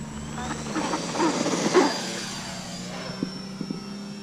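An E-flite EC-1500 RC model airplane starts its takeoff run, a thin electric motor whine rising steadily in pitch over a low rumble, with faint rustling nearby.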